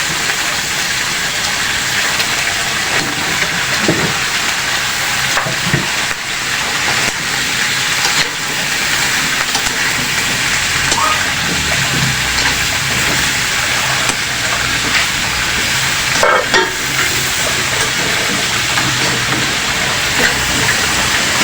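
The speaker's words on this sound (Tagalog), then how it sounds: "Tapos natin nagisa yung limasag at lagyan na natin yung kalabasa" Squash sizzles and hisses steadily in a pan with sautéed limasag shellfish, a loud, continuous broadband frying sound with faint scattered clicks of stirring throughout.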